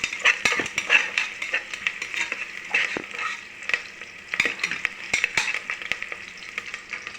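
Ingredients for a white chickpea kurma sautéing in a pan, with brisk repeated clinks and scrapes of a spoon against the metal over a low sizzle, close and uneven in rhythm.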